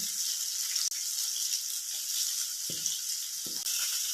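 Soybean chunks frying in a pan give off a steady, close sizzle, with two brief low thumps and scrapes as boiled potato pieces are added and stirred in. No one speaks.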